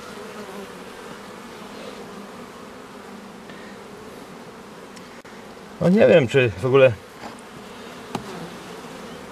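Honeybees hum steadily at an apiary hive in early May, a low continuous drone with someone speaking briefly in Polish over it partway through.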